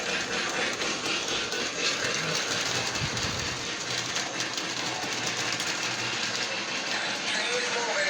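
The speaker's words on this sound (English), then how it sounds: "Train is moving." A Lionel LionChief Union Pacific Steamin' Flyer toy freight train runs on its track with a continuous close whirring and clattering rumble that holds steady throughout.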